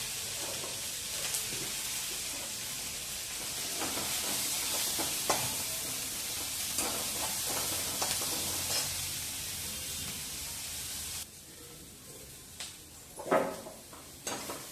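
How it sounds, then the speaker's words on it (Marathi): Onion with a little salt frying in a pan makes a steady, close sizzle and hiss, with occasional clicks and scrapes of a utensil stirring it, then a quieter stretch with a few louder knocks near the end. "हा कांदा देखील थोडासा हलकासा मऊ होईपर्यंत आपण फक्त भाजून घ्यायचा"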